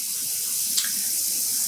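Water pours steadily into a container for soaking yarn during home yarn dyeing, a continuous close hissing stream with no talk.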